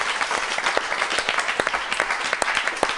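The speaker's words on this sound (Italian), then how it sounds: "un applauso fateglielo perché lo merita" Brief applause from a small studio audience on an Italian football television show, individual claps distinct and uneven over about three seconds, moderately close.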